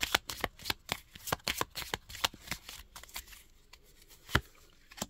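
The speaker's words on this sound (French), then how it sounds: "Je reprends mon paquet des cristaux, voilà, que je mélange de nouveau." A deck of crystal oracle cards is shuffled by hand in quick, crisp riffles and slaps, a rapid run of sharp ticks that thins out toward the end, close and alone.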